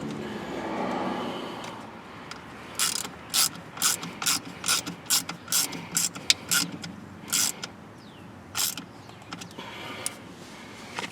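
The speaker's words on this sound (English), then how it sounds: "Now we'll go ahead and put our T-top screws back in here." Rapid ratcheting clicks from a hand tool driving T-top screws back into an interior light cover of a Chrysler PT Cruiser, a series of short sharp bursts in quick succession, close and clear over a quiet room.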